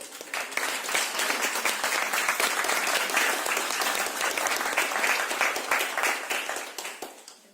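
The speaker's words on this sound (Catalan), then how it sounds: "un aplaudiment per a ells" Warm, dense applause from an audience at a language conference, steady for several seconds before tapering off near the end.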